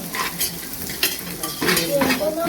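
An egg fries in oil in a pan at a village cookout, with a steady close sizzle and the scrape of a spoon stirring throughout.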